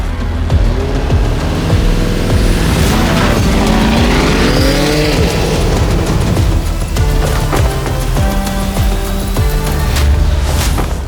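A 657-horsepower Lamborghini Urus Performante drag races SUVs such as the Ioniq 5 N, Macan GTS, F-Pace SVR and Grecale Trofeo: loud, close, continuous engine roar with rising revs, gear changes and tire squeal throughout.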